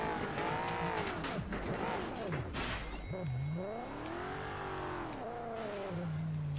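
A banana-shaped car in the video game Carmageddon Reincarnation revs and accelerates, its engine pitch sweeping up and down in loud, continuous waves with brief tire noise, no talking over it.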